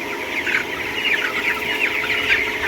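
A flock of 25-day-old broiler chickens clucks in a steady, close chorus, with overlapping calls rising and falling throughout and no talk.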